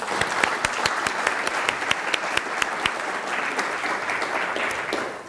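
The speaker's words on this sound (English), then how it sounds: "Let's give them all another round of applause." An audience applauds at a Florida politics event honoring rising stars, a dense, steady round of clapping with a few sharper individual claps standing out, loud and close, with no talking over it.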